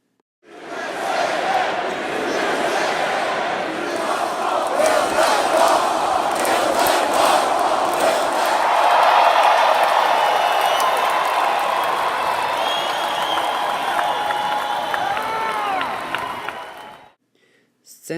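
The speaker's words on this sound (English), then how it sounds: "Once the rally started, the crowd went crazy with their support for President Trump and Senator" A large rally crowd for President Trump cheers and roars in a sustained, loud swell with scattered clapping. The noise holds steady for most of its length before fading out at the end.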